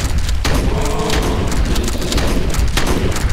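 Rapid gunfire from the VR shooter game Bleeding Edge, fired at dinosaurs, with dense booming bursts filling the whole clip and sharp separate blasts standing out near the start and end.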